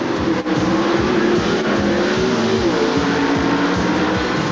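1988 California Nationals drag racing at Sonoma: Bob Glidden's Ford in the final round against Jerry Eckman, with a loud, continuous roar of race engines dominating the whole stretch, dense and sustained throughout.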